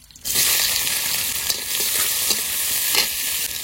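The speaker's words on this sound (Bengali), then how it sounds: "এবার বেগুন দিয়ে মাছের তেল দিয়ে আর ডিম দিয়ে ভেজে নেব।" Eggplant, silver carp fish oil and roe tipped into hot oil for a fish curry set off a loud, steady sizzle that bursts in after a brief quiet moment and keeps going unbroken, close up with no voices.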